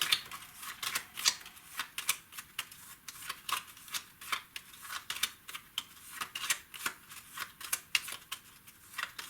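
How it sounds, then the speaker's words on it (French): Cards from the Mini Rogue solo card-and-dice game being shuffled by hand, a quick run of crisp riffling flicks repeating steadily and close, alone with no talk. "je mélange mes cartes"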